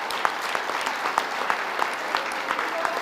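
Supporters at a political party rally applaud the new Quebec premier, a sustained, even wash of dense clapping with occasional louder individual claps, filling the whole stretch.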